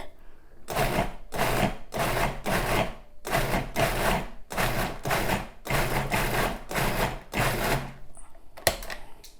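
A kitchen blender pulses while coarsely grinding mint tamarind chutney, about ten short loud whirring bursts in an even rhythm with brief gaps, close up, ending with a clatter.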